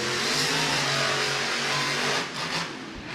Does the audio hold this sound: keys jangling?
no